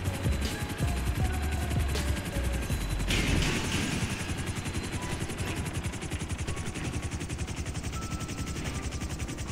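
Helicopter rotor blades thump in a fast, steady chop beside a safe house in GTA, loud and close, with a sharp mechanical burst near the start.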